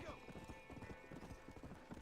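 A horse gallops in the Western game Red Dead Redemption, rapid rhythmic hoofbeats clip-clopping steadily at close range, with faint speech underneath.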